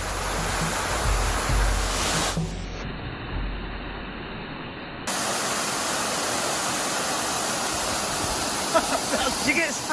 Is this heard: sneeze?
no